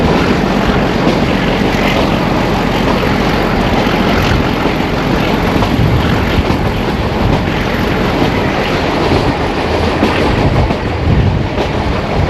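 A train in rural Gujarat rumbles loudly and steadily, a dense, continuous roar of wheels and carriages that holds without a break and has no voices over it.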